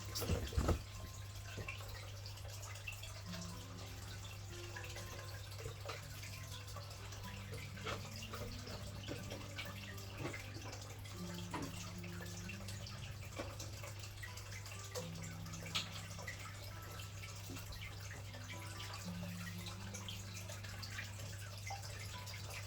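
Water being poured and topped up for a betta fish tank: a steady, continuous trickle with occasional drips and splashes, close and moderately loud over a constant low hum, with no talking.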